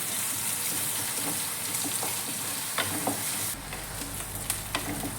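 Onion, green chilli, ginger and curry leaves sizzling steadily in a pan, with a loud continuous frying hiss and occasional stirring clinks close by, the tone shifting slightly partway through.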